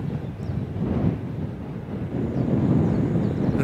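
Wind gusting across an open field during a pigeon toss, a low, rumbling buffeting that swells and eases steadily over a few seconds, with no voices.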